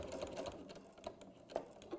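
A sewing machine stitches binding onto a fabric tablet cover, a quiet, soft mechanical whir with small ticks over about two seconds.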